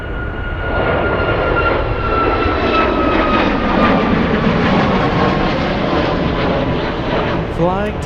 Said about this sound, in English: Let's go for the United Airlines 737.